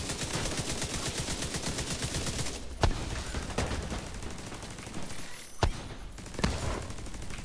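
Steady, dense automatic gunfire from the video game The Division 2 rattles on continuously, broken by a few sharper single shots.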